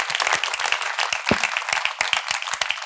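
Dense applause from an audience, many hands clapping steadily and close, with a brief voice rising through it near the middle.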